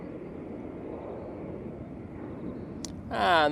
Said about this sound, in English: And that 737 is off to Agadir.